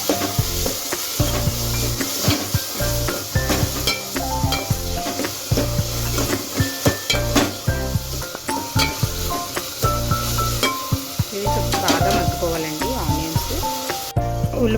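Onions and ginger-garlic paste fry in oil for a Telugu egg pulusu, giving a steady sizzle with intermittent stirring scrapes in the pan, partly masked by loud tonal backing music throughout.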